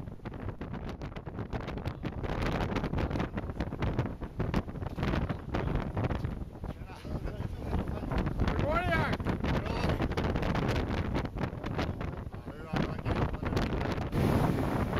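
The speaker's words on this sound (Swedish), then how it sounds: "På grund av den starka nordliga vinden sökte vi, precis som många andra dykfartyg, natthamn" Strong northerly wind buffets the microphone in a steady, roaring rush, with the wash of open water and a dive boat underneath throughout.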